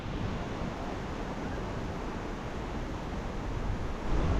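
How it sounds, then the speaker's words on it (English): Bridalveil Fall in Yosemite pouring heavy water on a cold, windy day, a steady broad roar of spray and gusting wind, constant and moderately loud with no voices. "That is a lot of water coming off of those falls,"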